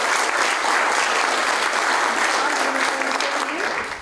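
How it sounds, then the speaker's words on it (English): A large crowd at a university sports and society event on equality in athletics applauds steadily, dense clapping sustained loudly throughout before tapering off at the very end. "So we have a round of applause for this."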